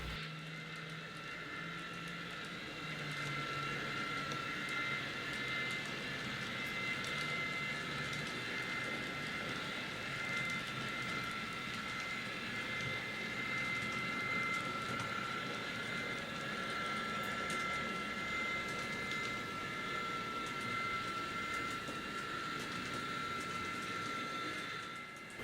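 A small N scale DCC model train rumbles and clicks steadily along its track through a junction, a soft continuous rolling with a faint electric hum, no voices.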